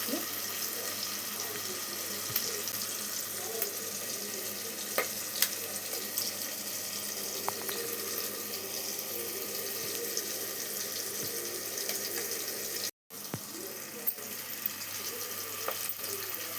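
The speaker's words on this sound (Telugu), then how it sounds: "ఉల్లిగడ్డలు మొత్తం పోపు దినుసులంతా వేగిపోయాయి" Onion, garlic, green chilli, cumin and mustard seeds fry in oil in a continuous soft crackle with a watery, splashy texture and scattered small pops. The sound is fairly quiet and close, with a brief dropout near the end.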